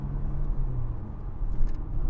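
A Ford Fiesta XR2 Mk2 engine runs at a steady, close idle with a deep, even rumble and slight flutter throughout.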